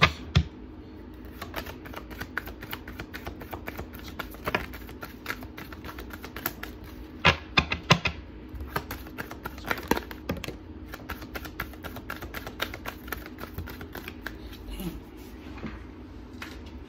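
Tarot cards are shuffled and tapped in quick, light clicking bursts, a steady close patter of crisp card noises without talk.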